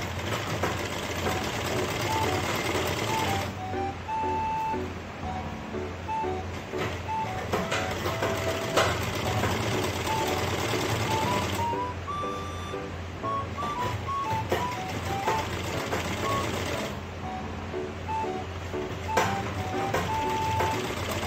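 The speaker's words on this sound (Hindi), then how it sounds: "यहाँ पर इधर की तरफ हम इस सिलाई लगाएंगे।" A sewing machine stitching a stand collar on a blouse runs steadily for about twenty seconds, with a close, continuous mechanical whir and rapid rhythmic clatter that speeds and slows slightly.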